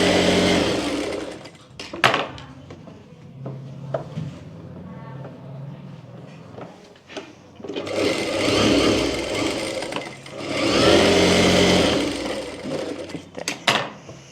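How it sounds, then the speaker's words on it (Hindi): A sewing machine stitches a baby frill frock in two sustained runs of rapid whirring, with quieter handling and soft clicks between the bursts. "सिलाई लगा लेंगे दोनों तरफ।"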